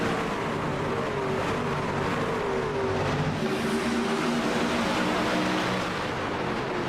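Racing trucks in the YESCAR Truck Series sim race at Homestead Miami Speedway roar together at the green-flag start, a dense, steady engine drone with no break.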